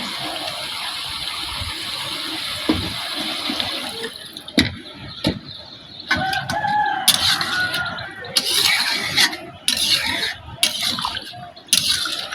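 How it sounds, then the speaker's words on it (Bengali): Water is poured into a pan of fish curry with stalks and potato to make the gravy, giving a gushing, splashing pour in bursts, close and moderately loud, with clatters between. "অল্প একটু ঝুলে পানি দিয়ে দিব"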